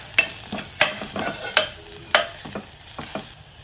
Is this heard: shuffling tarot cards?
no